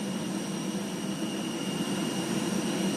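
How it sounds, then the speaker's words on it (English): An aircraft engine runs on the airport tarmac in Doha, a steady, close, loud roar with a high whine that never lets up. "I can't hear you over the sound of the engine"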